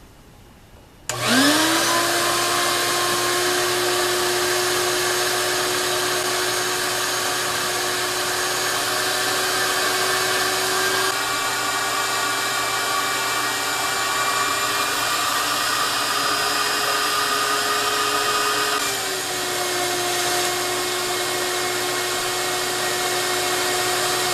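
A shop vac starts abruptly and runs loud and steady for the whole stretch, a constant whining roar with small pitch dips as it sucks up sawdust and wood debris from a workshop floor.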